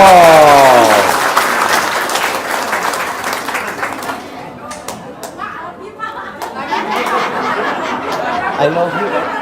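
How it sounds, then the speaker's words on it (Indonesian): An audience bursts into loud applause after a voice speaks, the clapping thinning into scattered claps, chuckles and chatter before swelling again near the end. "Tepuk tangan dong."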